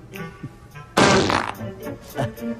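A fart noise plays as a mobile phone ringtone, a loud burst lasting about half a second that stands out over a comedy scene with people talking before and after it.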